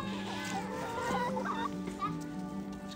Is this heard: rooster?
yes